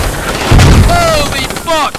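A mortar shell lands with a direct impact in the military shooter Squad; a heavy boom hits partway in, over a rumbling battlefield with whistling tones, and a second burst follows near the end.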